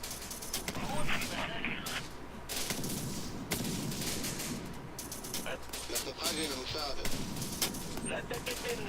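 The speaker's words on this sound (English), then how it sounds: "That's some effective mortar fire." Mortar and gunfire in the Syrian Warfare strategy game: repeated heavy thuds and crackling bursts of shots, with a spoken voice running underneath the busy battle noise.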